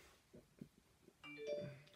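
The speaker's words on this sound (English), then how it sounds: "Sorry about that, that was my phone." A short chime from a phone's text message alert, a quiet ringing tone that follows a few faint soft knocks.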